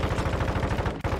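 Rapid automatic gunfire from Call of Duty Warzone 2 bursts out as a tight, evenly spaced string of loud shots. The string breaks off for a moment near the end, then picks up again.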